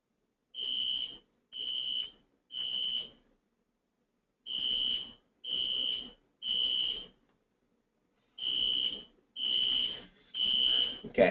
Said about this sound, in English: I'm not sure if you're hearing the alarm and it's bothering you